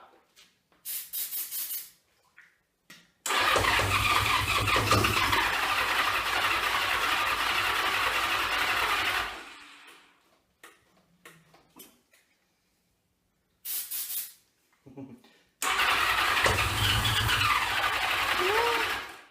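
A 1982 Honda Goldwing motorcycle with dry carburetors cranks in two long bursts of loud, steady starter grinding that never catch, separated by short sputters and near silence.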